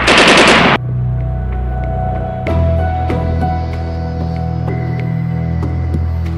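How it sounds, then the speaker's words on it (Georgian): Gunshots are fired inside a car in a loud, rapid burst of close pops at the start. The burst then gives way to a steady low hum that continues to the end. "ისმის სროლის ხმა."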